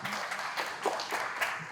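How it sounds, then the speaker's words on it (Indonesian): Applause for the district head (Pak Camat) at a community talk on subsidized fuel: a steady, dense clatter of many hands, fairly faint and even throughout, with no clear voice on top. "Tepuk tangan buat Pak Camat"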